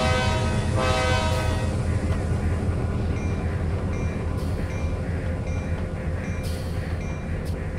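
Trainz video game train engines pulling away, a loud continuous diesel rumble with a sustained multi-tone horn blast near the start and shorter tonal horn sounds later.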